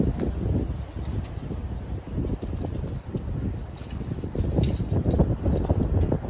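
Steady wind gusts outdoors in Taiwan roar and buffet the microphone with a low rumbling rush, continuous and fairly loud throughout, with no clear speech.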